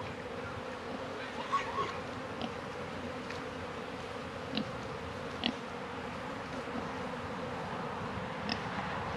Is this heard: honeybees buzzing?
yes